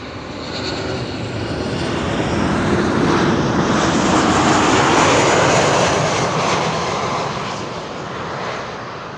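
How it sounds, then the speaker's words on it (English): A KLM Boeing 737 landing at Amsterdam Schiphol on the Kaagbaan runway, arriving from Milan, its jet engine roar swelling loud and close as it passes, then easing slightly. "A similar 737 is now approaching the Kaagbaan and will be landing much closer by."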